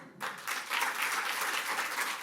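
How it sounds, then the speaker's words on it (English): Audience applause for a group of classical dancers at a Jain association Ramayan stage show in London, a steady wash of many hands clapping that starts abruptly and carries on evenly at moderate volume, heard from a distance. "a big round of applause for our beautiful classical dancers"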